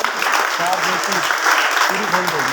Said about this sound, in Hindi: जोरदार तालियों से कोच साहब का स्वागत